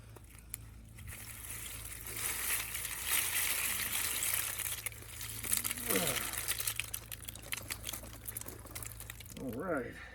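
Water and farmed oysters pour out of a container, a sloshing, splashing rush with clattering shells, fairly quiet, while a voice talks intermittently over it.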